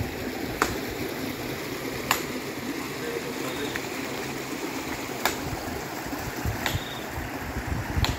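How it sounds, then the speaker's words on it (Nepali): Water runs steadily past the third dam crossing of a drinking-water structure at Phusre, Dharan, a continuous rushing wash with a few faint clicks on top. "यहाँनिर पानी गइरहेको छ"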